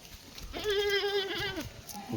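A goat at a livestock sale lets out one clear, wavering bleat lasting about a second. It sounds close, against a quiet background.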